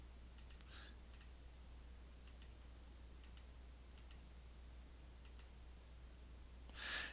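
Quiet mouse clicks at irregular intervals, some in quick pairs, close but faint over a low steady hum, as labels are clicked one by one on a computer.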